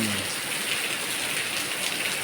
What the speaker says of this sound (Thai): ตกแรงมากฝนตกแรง